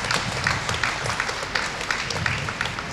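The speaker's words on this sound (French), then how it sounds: "Est-ce qu'on peut l'habituer aux applaudissements un peu?" An audience claps steadily at a horse-riding clinic to accustom a horse to applause, a continuous patter of many hands at moderate distance.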